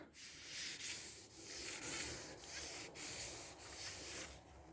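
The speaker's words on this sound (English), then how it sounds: "sort of a high pitched sort of a squeal. That means there's dirt under there." A palm rubs steadily over a surface with dirt trapped beneath it, giving a close, repeated hissing scrape in short strokes with brief dips between them.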